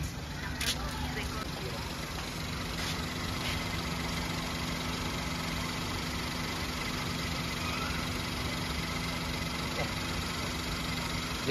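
A car engine idles with a low, steady hum through the whole stretch, fairly quiet and partly masked by background noise and voices.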